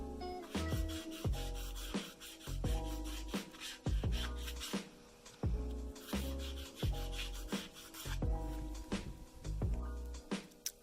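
The base of a shaving brush knot is sanded by hand in steady back-and-forth strokes, a rhythmic, close rasping scrape repeating about every second.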